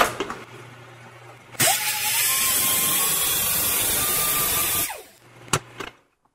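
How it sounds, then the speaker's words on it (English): A right-angle grinder fitted with a Scotch-Brite pad polishes a metal tube spinning between centers on a lathe. It whirs up to a steady, loud, bright hum, holds it for a few seconds, then winds down amid a few clunks. "I'll use a Scotch-Brite pad on a right-angle grinder to brighten the finish on each tube."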